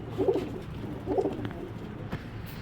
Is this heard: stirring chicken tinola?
no